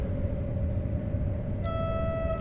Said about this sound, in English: us Americans like to honk the horn